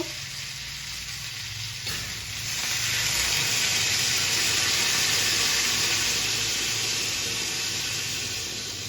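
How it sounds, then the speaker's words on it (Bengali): Potato and pointed gourd curry sizzles loudly in hot oil, a brief quieter moment before a surge of steamy hissing as water is added, then a steady strong sizzle throughout. "এরপর আমি এইটাতে জল দিয়ে দেব।"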